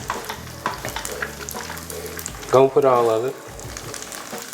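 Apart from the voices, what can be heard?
spaghetti being added to a sizzling pan and stirred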